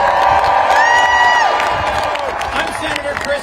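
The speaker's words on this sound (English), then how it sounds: "Let's cheer for the men and women of USAID." Protest crowd cheers and whoops for USAID workers at a rally opposing the Trump presidency, a dense roar with shouts rising over the noise and fading slightly toward the end.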